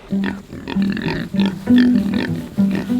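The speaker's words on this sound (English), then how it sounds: "These 4 KUNE pigs were the first pigs born on our property." Several Kune Kune pigs grunt and snort close by in a quick, overlapping series of low, throaty sounds.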